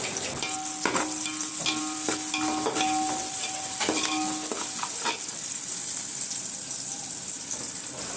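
Onions with salt sautéing in a pan, with a steady sizzle under repeated clinks and scrapes of a spoon stirring, close and continuous.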